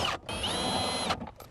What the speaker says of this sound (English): there are two screws you need to remove, one right here and another one over at the end.